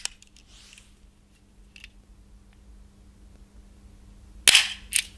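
A Gomm Cogne GC 54 defense gun firing buckshot from its upper barrel: a faint click early on, then two sharp, loud reports close together near the end, with no talking.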